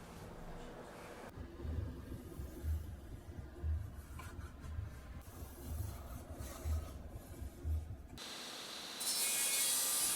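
Two glued metal pieces being cut together for a belt grinder spark shield, a rhythmic rasping stroke repeating steadily for several seconds, close and moderately quiet, ending in a brighter hiss.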